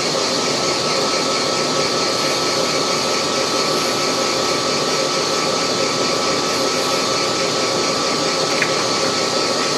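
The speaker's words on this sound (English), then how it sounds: "The one thing I do want to do now is put a little chamfer on it." A metal lathe breaks the top edge of a turned ball-turner body with a small chamfer cut, giving a steady, continuous broadband whir and hiss that holds evenly at close range throughout, with no voices.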